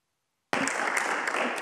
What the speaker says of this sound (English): The committee wanted to applaud Lynn for her service.